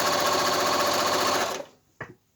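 Sewing machine running a continuous zigzag stitch on quilt fabric, a fast, steady mechanical whir that cuts off abruptly, followed by a couple of brief clicks and handling knocks.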